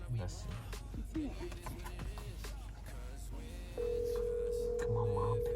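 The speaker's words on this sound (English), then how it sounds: "Pick up the phone, Mom. Mom, pick up the phone." An outgoing phone call to family from inside a brand new 2021 Hyundai Tucson: a steady ringback tone hums beneath people talking over it.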